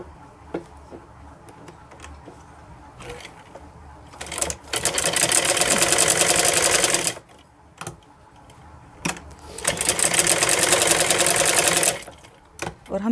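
A sewing machine runs a diagonal seam on a wrap palazzo trouser, running in two sustained loud bursts with quieter handling pauses between and around them.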